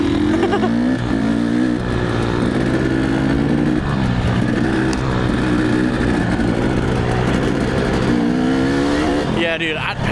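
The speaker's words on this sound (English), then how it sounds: "I feel like this two-stroke is geared way too bottom heavy" A two-stroke dirt bike engine revs loud and close for about ten seconds, its buzzing tone climbing and settling in steady surges, with someone talking over it throughout.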